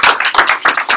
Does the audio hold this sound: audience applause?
yes